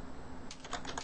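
Short burst of typing on a computer keyboard, a quick run of light clicking keystrokes, close and fairly quiet, with no voices.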